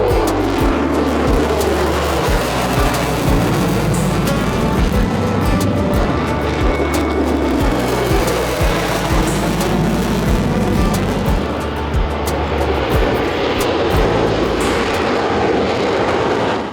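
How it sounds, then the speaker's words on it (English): A Navy F-35C Lightning fighter jet taking off at the Oshkosh 2025 airshow, a loud, steady, full-bodied engine roar that holds strongly throughout without pause. "And then the F-35C took off, also known as the F-35 Lightning."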